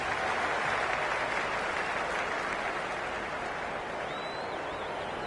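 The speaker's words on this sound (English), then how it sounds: "There's a buzz, a real buzz coming from the stands." A steady roar of cheering and clapping rises from the stands of a cricket ground in the video game Cricket 26, a dense, continuous crowd wash with no commentary over it.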